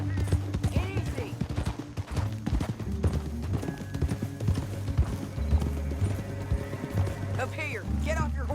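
In Red Dead Redemption 2, horse hooves clop at a steady galloping rhythm under game music and character talk, with a brief whinny near the end.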